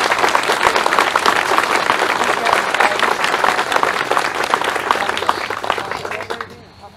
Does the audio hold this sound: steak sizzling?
no